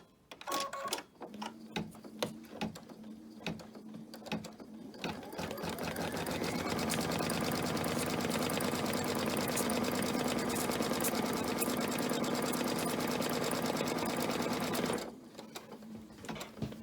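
A sewing machine tacks down the edge of a fabric piece on a Fourth of July flag banner, starting with a few short bursts and then running in a fast, steady, loud stitching whir before stopping abruptly.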